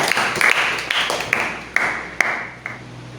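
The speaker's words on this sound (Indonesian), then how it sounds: "Berikan tepuk tangan yang meriah untuk Bapak Niko" A class gives a round of applause for Bapak Niko at the close of a poetry-writing lesson, steady clapping from a modest group with a few sharp, louder claps standing out as it slowly fades.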